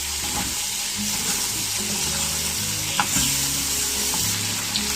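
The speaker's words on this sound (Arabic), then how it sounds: "نشوح كله ببعضيه" Diced carrots sizzle steadily in a hot pan as they are sautéed for an Egyptian green bean and meat tagine, with a continuous frying hiss and a few sharp stirring clicks of a utensil.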